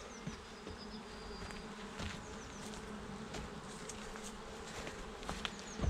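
Steady, dense buzzing of many honey bees close by at a hive, a continuous hum with occasional louder individual fly-bys and faint clicks.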